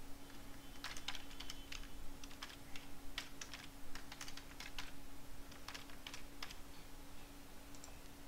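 Computer keyboard typing while entering a database query in MySQL, with irregular bursts of clicky keystrokes spread across the clip over a steady low electrical hum, fairly quiet and close, no talking.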